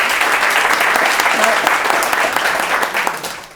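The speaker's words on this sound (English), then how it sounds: "So a big round of applause for" Sustained audience applause at a tech talk, a dense, steady wash of many hands filling the room, loud and close, gradually easing toward the end.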